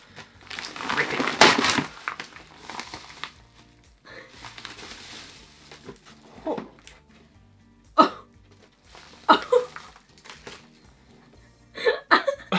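PR package wrapping is torn and crinkled open nearby in loud bursts of ripping and crumpling, separated by short pauses, with people talking and laughing around it.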